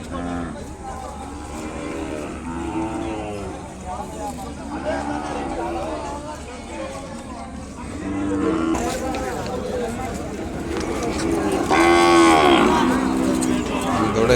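A calf moos several times nearby at the Kodad cattle market, drawn-out calls repeating over steady background chatter and crowd noise.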